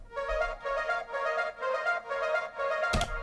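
Two layered Serum harp presets play together as a rich, bright synth harp pattern of six evenly spaced plucked notes, up close, ending with a sharp percussive hit.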